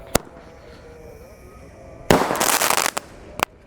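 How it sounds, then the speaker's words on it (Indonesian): Golden Builds firecracker fireworks set off on a Ramadan night: a sharp pop, a quiet pause, then a loud dense burst of crackling explosions lasting about a second, ending in one last crisp bang. "di sini ada mercon golden builds"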